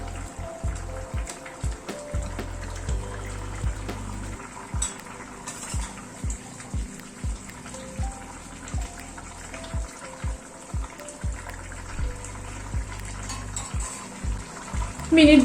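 Fish slid into a simmering curry broth in a home kitchen, a continuous low bubbling under repeated soft knocks of a utensil against the pot, with occasional faint voice.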